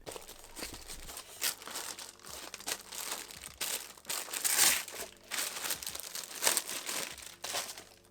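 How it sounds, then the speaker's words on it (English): Crinkling and rustling of packaging being handled while the Akai MPK Mini Play keyboard controller is unboxed, close and irregular with crisp tearing-like bursts, no speech. "let's get into the unboxing"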